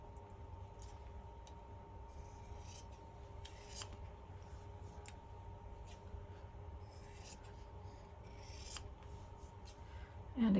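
Quiet, repeated snipping and rubbing of scissors trimming quilt fabric seams, short crisp bursts scattered over a low steady background hum.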